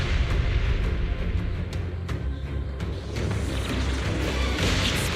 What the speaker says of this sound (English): Explosions are becoming more frequent.